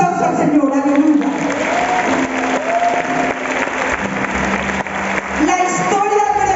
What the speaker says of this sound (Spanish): Démosle un aplauso al Señor, aleluya